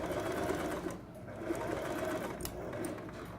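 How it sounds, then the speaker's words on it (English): A sewing machine stitches curtain fabric in quick, steady runs, a close mechanical whirring with a brief slowdown around the middle before it resumes. "I know it's going to be sewing in the right spot"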